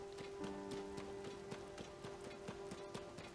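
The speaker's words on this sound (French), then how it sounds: "Parce que là grimper sous la pluie ça va être chiant." Steady rain in Zelda: Tears of the Kingdom patters on a surface, dense drops and occasional heavier hits, alongside a sustained low tonal hum from game audio.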